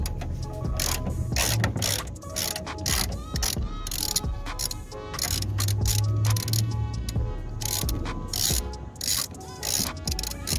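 A ratchet with a 10mm socket backs a bolt out on a 2005 Ford Focus ST, giving close, rapid clicking bursts in repeated strokes, some brief pauses between them.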